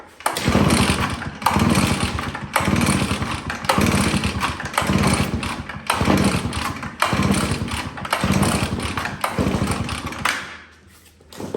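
A Husqvarna 570BTS backpack leaf blower's two-stroke engine is cranked over and over with almost no fuel left in the carburetor. Loud bursts of rough, sputtering engine noise repeat every second or so, and a short quiet gap comes near the end.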